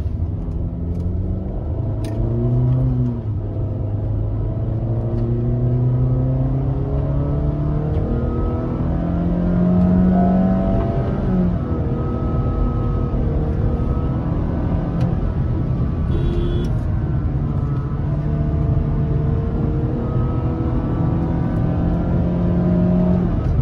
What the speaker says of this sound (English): The noise of this engine is so satisfying. When it's a humming sound comes out of the sports mode, you can feel the engine right there and the performance.